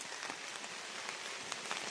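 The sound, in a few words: rain falling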